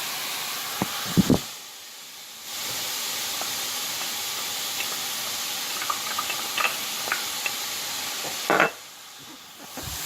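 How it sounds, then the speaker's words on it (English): Onions go into a hot pan for a chicken stew and sizzle with a loud, steady hiss close by, broken by scattered crackles and the clatter of stirring, with a brief drop in the hiss partway through. "what we'll do now is we will add the onions"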